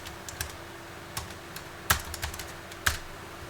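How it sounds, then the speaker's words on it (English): Keys clatter on a computer keyboard as text is entered in quiet surroundings, a sparse, uneven run of soft taps with a few sharper, louder strikes, close by and without talk. "Let me just type that in."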